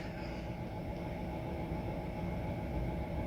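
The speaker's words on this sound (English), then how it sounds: "the freight cars were being shunted into place" Freight cars being shunted into place by a train, heard as a steady, continuous rail rumble with dense low mechanical noise that holds even throughout.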